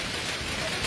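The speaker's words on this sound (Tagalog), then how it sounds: "Gaulan ice!" Hail mixed with rain falls during a storm in Esperanza, a dense, loud, continuous patter and hiss with a scattering of sharper taps throughout.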